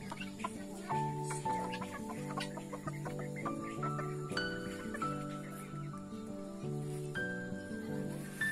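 Imported Thai-breed chickens cluck on a small farm with exotic animals, a busy, continuous flock chorus with overlapping clucks and calls, steady and moderately loud throughout, with no talk.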